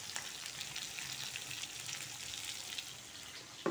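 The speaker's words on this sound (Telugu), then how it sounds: "ఇప్పుడు ఇది బాగా వేగనిస్తాను, కొంచెం పచ్చిపోయిందాకా." Potatoes and field beans sizzle and fry in a pan, a steady close crackling hiss that holds level throughout with a small clatter at the very end.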